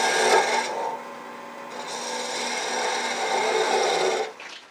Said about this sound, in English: let's take a little bit more of this down with a spindle gouge.